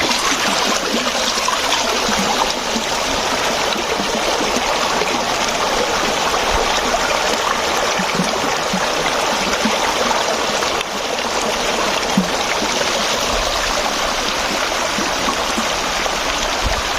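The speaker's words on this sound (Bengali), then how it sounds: "ওই দূরে সাদা ঝর্ণা দেখা যাচ্ছে" Rushing stream water along a rocky hill path at Utma Chhara near the Sylhet border, with a distant white waterfall, gives a loud, constant broadband roar and babble that continues without a break.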